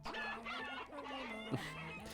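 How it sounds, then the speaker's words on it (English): Chicken clucking save-file sound from the Katamari video game: a rapid string of clucks in a bouncy rhythm, clear and close, ending in a short sharp squawk, no talking. "And Ko makes chicken sounds."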